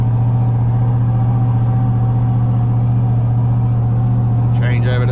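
A Scania log truck hauling off-highway doubles to a sawmill grinds along at just under 15 km/h, a loud, steady low engine drone with a constant hum. It runs throughout without letup.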